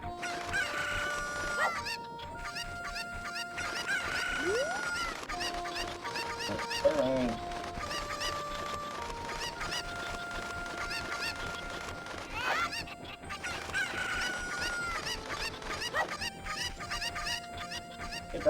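Cuckoo chickens from The Legend of Zelda: Ocarina of Time cluck and squawk repeatedly over looping game music and sound effects, with one brief spoken word.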